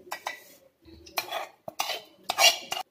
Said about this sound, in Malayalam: ഇപ്പൊ കപ്പി കുറുക്കിയത് മിക്സിയുടെ ജാറിലേക്ക് ചേർത്ത് കൊടുത്തിട്ടുണ്ട്